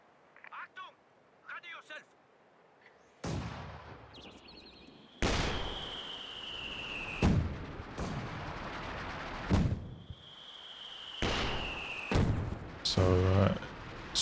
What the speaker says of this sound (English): Testing out the responsiveness of the LEIG smoke after these changes. Going to be comparing it to the Ostheer mortar.